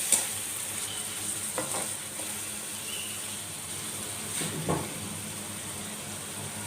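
Spices and chillies sizzle steadily in hot oil for a karela aloo curry, with a few soft stirring scrapes of a spoon in the pan, close and continuous, and no talking.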